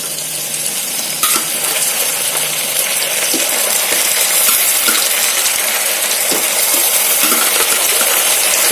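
Chicken pieces frying in hot oil with onions in a pan, a loud continuous close sizzle with a few clinks and stirring knocks, no speech.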